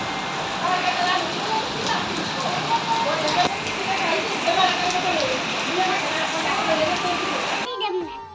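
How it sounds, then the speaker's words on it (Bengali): Steady rain pours down after a storm, a dense continuous wash of drops hitting surfaces close by, holding even loudness throughout; a voice may murmur faintly beneath it. "দেখো আসার সাথে সাথে অল্প একটু দাঁড়ানোর সাথে সাথে পুরো আবারও বৃষ্টি শুরু হয়ে গেল।"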